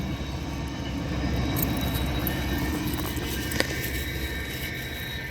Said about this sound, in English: It's a commuter train to the LA area.